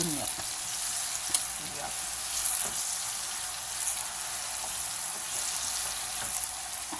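Chopped cabbage and vegetables frying in a pan, the cabbage standing in for onion: a steady, moderately quiet sizzle with occasional light stirring clinks, and a brief spoken word early on.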